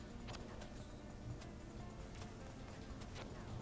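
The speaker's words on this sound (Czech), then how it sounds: "Co to je za mouchy?" Buzzing flies from the Mega Drive game Space Harrier II, a steady insect-like drone running throughout with a few sharp electronic blips scattered across it.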